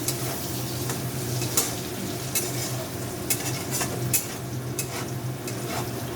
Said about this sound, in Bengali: এবার বাদামটা দিয়ে একটু 1 মিনিট মতো একটু নাড়াচাড়া করবো